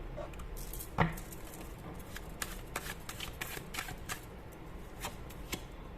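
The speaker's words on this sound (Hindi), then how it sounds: "मैं यहाँ से भी कुछ लूंगी कार्ड्स, एक मिनट।" Tarot cards drawn and handled close by, with continuous papery shuffling, sliding and soft flicks plus an occasional louder slap of a card being laid down.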